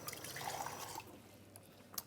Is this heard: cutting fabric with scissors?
no